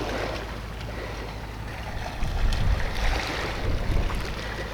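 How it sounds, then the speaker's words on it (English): Steady wind buffets the microphone on a riverside foreshore at very high tide, with low rumbling gusts that swell louder midway and keep blowing throughout. "It's quite windy."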